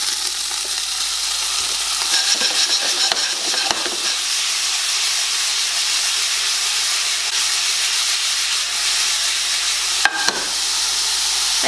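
Green beans hitting hot oil with chili flakes, a steady, bright hiss and sizzle throughout with a few stirring clatters and a brief louder crackle near the end, no talk.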